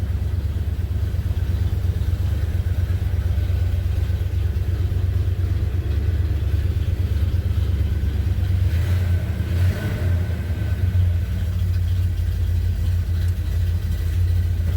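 A 1978 Chevy C10 pickup's engine idles steadily while warming up, a loud continuous low rumble close by, with a slight swell in revs partway through and no talking.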